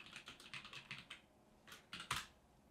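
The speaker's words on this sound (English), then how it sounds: "I'm going to hit tab and type karma render settings." Keys clatter on a computer keyboard in a quiet room, a faint, close series of quick taps in two short bursts with a pause between.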